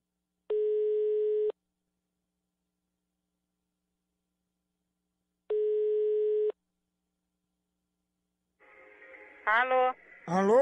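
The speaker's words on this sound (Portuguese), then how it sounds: "Tá chamando." Telephone ringing tone on a call, heard as two long evenly spaced rings separated by silence, followed by faint garbled voice sounds at the end.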